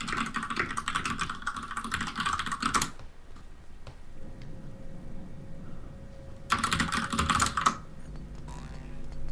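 Rapid clattering keystrokes on a computer keyboard come in two dense bursts separated by a quieter stretch with a steady hum, close and fairly loud.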